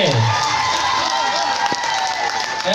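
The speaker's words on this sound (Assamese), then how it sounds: "সফিকুলৰ বাবে এটা জোৰ হাত চাপৰি হ'ব লাগে" A crowd at a marathon prize distribution in Kamrup, Assam applauds the winner, a steady wash of clapping and cheering heard under an announcer's amplified voice.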